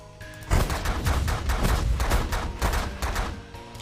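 Rapid bursts of video-game gunfire from a space strategy game shooting at ships, loud and dense, firing in quick repeated volleys for a few seconds with no talking.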